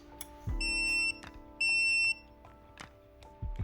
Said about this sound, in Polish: Powerbank wydaje też takie piknięcia przy rozpoczęciu pracy.